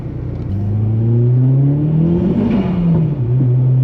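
A Mk4 Volkswagen R32 with a cold air intake revs hard and close, its engine note climbing and holding, with a brief crackle from the exhaust around the middle.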